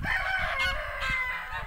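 Big rooster on a farm with geese giving a brief, loud, hoarse crow that lasts under two seconds, heard close up.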